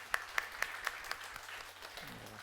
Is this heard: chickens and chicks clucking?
no